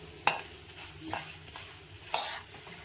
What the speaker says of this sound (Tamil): காஞ்ச மிளகா போட்டு கொஞ்சம் கலர் வரணும். கடலப்பருப்பு, உளுத்தம்பருப்பு அதுக்கு நல்லா வதக்கிடுங்க.